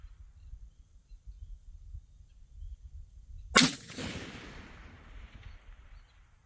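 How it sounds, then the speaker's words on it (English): A single sharp rifle shot fired prone from a shooting mat at a long-range target 720 yards away, a loud close crack with a rolling echo trailing off afterward over quiet outdoor background. "Shooting 720 yards, laying in the dirt."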